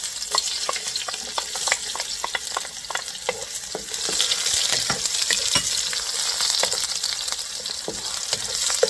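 Garlic and onion sauté in a pan with a steady close sizzle and dense crackling pops, stirred now and then, with no one talking.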